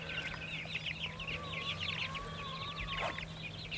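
Chickens on grass cluck and chatter in a busy, continuous flock, a mix of short repeated clucks and a few drawn-out calls, moderately near and steady over quiet outdoor background hum.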